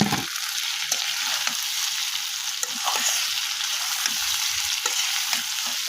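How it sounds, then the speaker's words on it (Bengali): Fish sizzles in hot oil over spiced, sautéed potatoes for a mustard fish curry in a village kitchen, a steady loud frying hiss with occasional stirring clatters throughout. "মাছ দিয়ে দিচ্ছি।"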